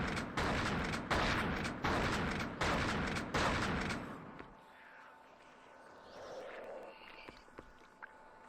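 Heavy shotgun blasts in The Thing video game, about six loud, evenly spaced booms at close range, then a quieter stretch of ambient game sound.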